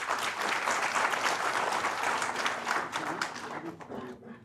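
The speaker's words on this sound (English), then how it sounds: "Please give a huge round of applause." Sustained audience applause at an international investment arbitration conference session, dense and steady clapping filling the hall before tapering off toward the end.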